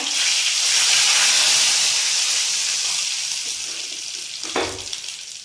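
Cumin seeds and leaves frying in hot oil for an aloo nutri curry, a steady broadband sizzle that eases slightly over time, with a brief low clunk near the end; no talking.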